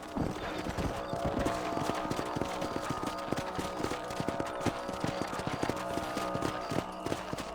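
Rapid, rhythmic horse hooves clip-clop steadily at a gallop while riding across a ranch in Red Dead Redemption, close and continuous, with a faint whinny.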